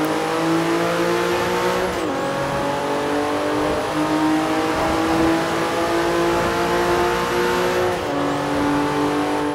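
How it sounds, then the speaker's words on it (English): A Porsche 911 Turbo S (991) engine in Forza Horizon 3 drones loudly and continuously with rising and falling pitch as it accelerates and shifts, with turbo whoosh, driving through a tunnel. "You can properly hear them turbos as well. It's that sort of clinical sort of whooshing sound"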